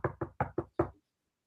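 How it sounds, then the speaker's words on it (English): Five sharp knocks on a door in a quick, even rhythm, close and alone, then silence. "Someone's knocking at your door."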